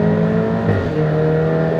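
BMW X4 xDrive30i with a 2.0-litre engine and a downpipe, its exhaust giving a steady, full drone throughout, holding a constant note with a slight swell midway, close and loud with no talking.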